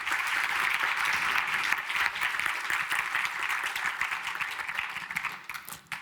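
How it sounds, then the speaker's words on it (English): An awards-ceremony audience gives a dense, sustained burst of clapping at the LIFE Awards 2024, holding strong before thinning slightly at the end. "Big applause."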